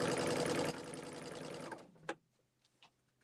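A sewing machine stitches quilt blocks in a steady, fast whirring run that stops abruptly partway through, followed by a few short mechanical clicks and taps in near quiet.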